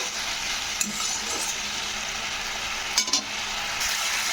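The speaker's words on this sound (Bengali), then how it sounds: "তো এইভাবে একটু নাড়তে হবে দু মিনিট মতন নাড়তে হবে" Spice masala fries in oil in a pan while being stirred, a loud steady sizzle broken by a few clinks and scrapes of a spoon against the pan, close up with no talking.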